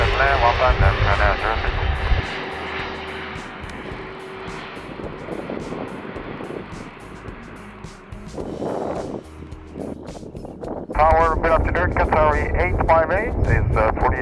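An airliner on final approach to runway 15L at Seoul Incheon Airport drones loudly, its engine roar swelling and fading amid wind noise while radio voices speak.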